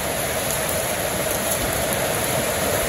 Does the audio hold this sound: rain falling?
yes